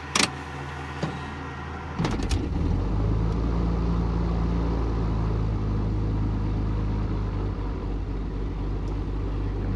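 A small airplane's left engine starting in cold weather: a few clicks and clunks, then the engine catches and settles into a steady, loud, close rumbling idle.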